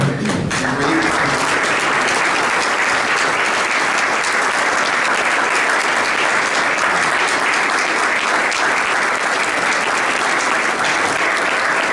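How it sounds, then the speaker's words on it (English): Audience at a club meeting applauds steadily and loudly throughout, dense continuous clapping without a break and no talk over it. "Why don't we stand up and give a round of applause to all of our"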